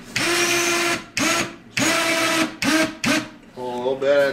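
A skinning machine pulls a coyote hide in short loud bursts, five whirring motor pulls separated by brief pauses, with a higher grinding whine at the end.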